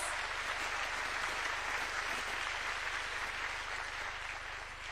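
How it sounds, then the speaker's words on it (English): Audience applause fills a large hall at the Africa Forward Summit co-hosted by President Ruto and President Macron, steady and sustained clapping from a big crowd, loud and continuous throughout. "Please give yourselves a round of applause."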